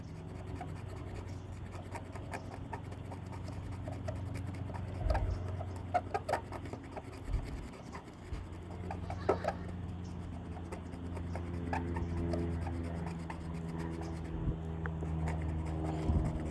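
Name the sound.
eraser tip of touch-up paint pen rubbing off paint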